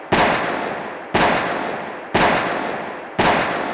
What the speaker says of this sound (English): you make a cut with the sound effect of a gunshot